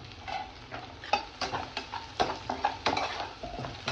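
Onion and green chillies frying in a pan, a soft background sizzle broken by repeated close scrapes and taps of a spatula as the mixture is stirred, roughly a dozen strokes in quick irregular rhythm.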